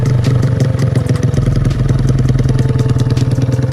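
A motorcycle fitted with an NS Pro racing exhaust idles close by, giving a loud, steady, lumpy rumble with a rapid popping pulse throughout.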